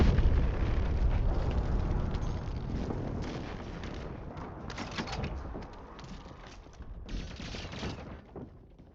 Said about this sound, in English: Enemy airstrike in the area.